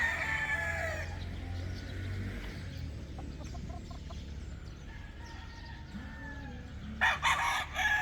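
Kelso gamefowl roosters, black and choco, crow on a hot, dry farm in Batangas. One crow sounds loud and near at the start, others answer faintly in the distance, and a short burst of clucking follows near the end.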